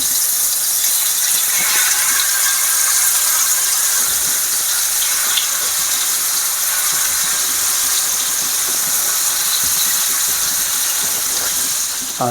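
Egg masala frying on a hot tawa, turned so both sides crisp like fried fish, gives a steady, dense sizzle that stays loud and continuous from start to finish, with faint scraping clicks scattered through it.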